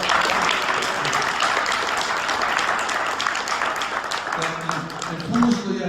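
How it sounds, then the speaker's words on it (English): An audience at a baseball history talk applauds in a steady, dense wash of clapping that runs the whole stretch, moderately loud, with a few voices mixed in. "We need some applause."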